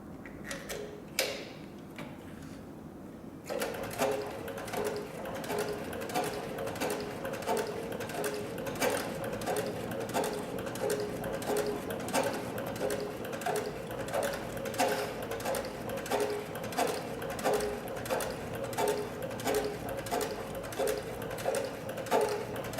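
A heavy-duty leather sewing machine stitches through four layers of 8 to 10 ounce tooling leather, running in a steady, fast mechanical rhythm of regular clicking strokes for about twenty seconds after a few faint opening taps.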